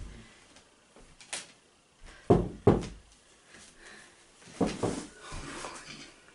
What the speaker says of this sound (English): The knocking could wake Duncan.